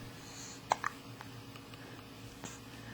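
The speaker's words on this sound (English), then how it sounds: "So I have the hiccups." A child hiccups after a bath, a couple of soft, close hiccups early on and a faint one later over quiet room noise.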